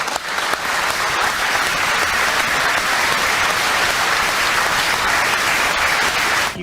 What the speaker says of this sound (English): So round of applause for Johnny.